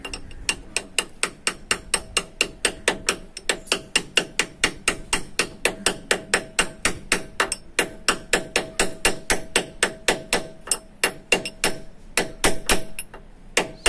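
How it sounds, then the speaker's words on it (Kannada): Light hammer blows tap a kicker bush onto a bolt of an auto rickshaw in a fast, even run of dozens of sharp metallic knocks, close and steady throughout. "hammer very lightly"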